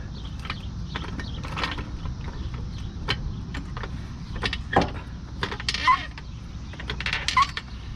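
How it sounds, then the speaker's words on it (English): A jack raising the rear of a 2006 Nissan Pathfinder 4.0 to relieve tension on a coil-spring bolt, giving a steady mechanical creaking and ratcheting with a few sharper squeaks over low background rumble, close and moderately loud. "we're going to raise the jack and make sure there's no tension in the bolt"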